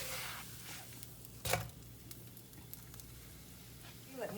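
Sooji cheela, a semolina pancake, sizzles faintly in a pan just after being flipped, a soft steady frying hiss broken by a brief louder spatter near the middle.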